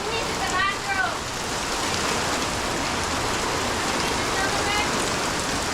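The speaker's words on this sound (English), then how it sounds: "Oh, it's hailing." Hail pelts down outdoors in a dense, hissing patter that runs unbroken throughout, with brief bird chirps early on and no distinct talk.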